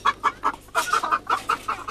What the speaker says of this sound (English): With 55 chickens in her yard, she sells daily to local market traders